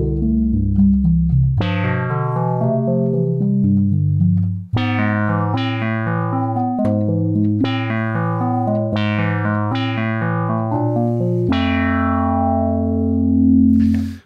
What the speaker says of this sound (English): that is the sound of the voltage-controlled filter found in the Moog Opus 3